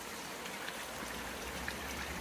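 Heavy rain pours down outdoors by a garden pond, a steady, faint hiss of countless drops with occasional louder splats and no talking.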